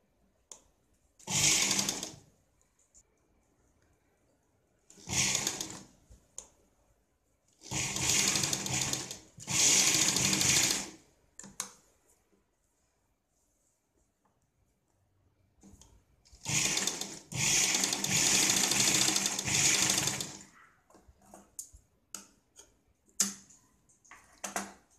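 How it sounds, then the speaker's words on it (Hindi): A sewing machine stitching fabric for a homemade hair rubber band runs in several bursts of rapid, whirring stitching, some brief and some several seconds long, separated by quiet pauses. "आप चाहे तो इस सुई धागे से भी इसको पैक कर सकते हैं, नहीं तो मशीन पे भी इसको सिलाई लगा सकते हैं।"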